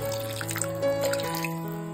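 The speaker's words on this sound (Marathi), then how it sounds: "हलकंसं पाणी घालतोय." Water trickles and drips into a pan of thick gravy for an egg curry, a soft, steady liquid pour close by with faint gurgling and no talk.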